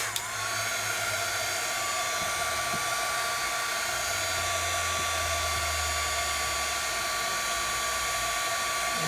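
Heat tool blowing hot air on low heat over shrink plastic, a steady loud whirring hiss that runs unbroken the whole time with no talk.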